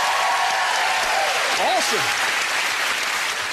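A television game-show studio audience applauds gold medal holders, a loud continuous roar of clapping throughout, with a brief voice rising over it midway.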